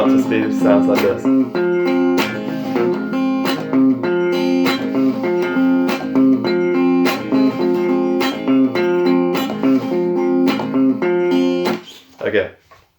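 Guitar plays a groove at full speed, a repetitive, rhythmic riff with sharp picked attacks over a droning low note, loud and alone before a quick stop.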